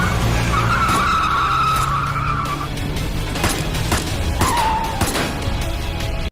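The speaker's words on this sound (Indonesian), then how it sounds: "sebuah mobil hitam seketika menghampiri mereka" A black car closes in fast with loud, sustained tire squeal and skidding, the engine roaring underneath as the squeal repeats in a second shorter screech.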